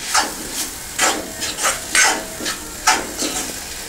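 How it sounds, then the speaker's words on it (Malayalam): Kerala-style beef curry masala with pepper and garam masala is stirred in a pan, giving a rhythmic series of close scraping swishes about every half second with a faint sizzle beneath, no voices. "എന്നിട്ട് നന്നായി ഒന്ന് ഇളക്കാം"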